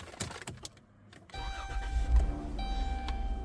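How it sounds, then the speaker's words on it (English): A Dodge Grand Caravan engine starts after a few clicks: the starter catches, then the engine settles into a steady, close idle with a low rumble. "Let's start the vehicle"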